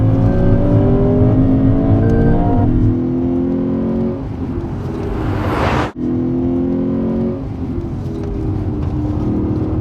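A 2016 Lexus GS F race car pulls out of pit lane and accelerates hard. Loud rising engine revs climb through the gears with a brief shift dip midway, heard from inside the car without talk.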